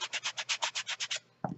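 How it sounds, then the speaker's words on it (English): Sandpaper rubbed along a paper edge in about ten quick, even back-and-forth strokes, close and soft, followed by a brief pause and one last scuff. "and keep on sanding"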